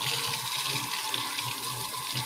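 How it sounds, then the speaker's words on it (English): Water runs from a kitchen tap during a quick rinse, a steady, moderately soft splashing stream that continues without a break. "Give this a quick rinse."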